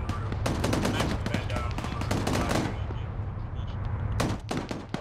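Dense automatic and single gunfire crackles in a combat scene from the military shooter ARMA 3, sustained bursts for the first few seconds, easing, then flaring again near the end, with faint voice chatter underneath.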